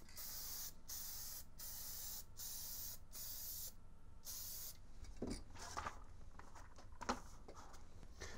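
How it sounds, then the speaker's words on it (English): Hornady One Shot case lube is sprayed onto 7.62x39 brass cases in a series of about six sharp, hissing bursts with short gaps between them, close by. Softer handling clatter and rustling follow. "I'm just going to hit these guys with some Hornady One Shot."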